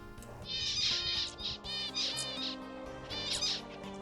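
Flocks of zebra finches calling around a tree at a watering spot, with bursts of high, buzzy chirps repeating in several clustered waves over steady background noise.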